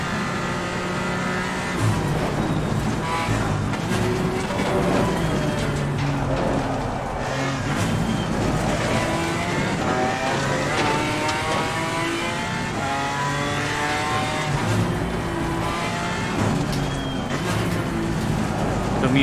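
Porsche 911 GT3 race cars run on a racetrack, engines droning and revving steadily through corners at moderate distance, with people talking over the sound.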